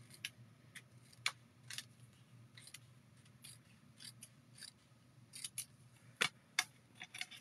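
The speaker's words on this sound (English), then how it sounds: "Snip off here." Scissors snip paper for a handmade card: a series of short, crisp cuts at an irregular pace, fairly quiet and close, with no talking.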